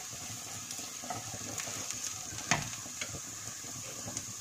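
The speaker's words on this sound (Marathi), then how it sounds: "असं एकसारखं परतत राहायचं म्हणजे करपत नाही" Onion, dry coconut, ginger and garlic being stirred in a pan over a low flame, giving a soft steady sizzle with faint scraping stirs throughout, close but quiet, no voices.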